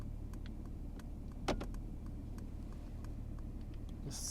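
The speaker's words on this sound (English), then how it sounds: "Let me put on the indicator for you" Turn signal indicator of a 2021 Mercedes S-Class long wheelbase ticking inside the cabin, a faint, steady run of evenly spaced clicks over a low interior hum.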